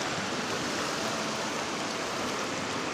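The flooded Kosi river near Almora rushes with a steady, dense roar of water that stays constant and loud throughout, with no voices.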